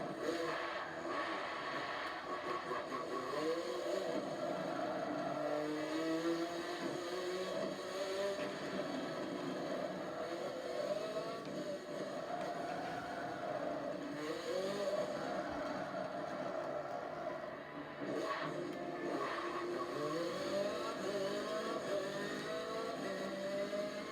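A race car engine in Forza Motorsport 7, from a Chevrolet Corvette or Ford Focus RS, revs hard and climbs through repeated rising sweeps as gears shift, loud and continuous throughout.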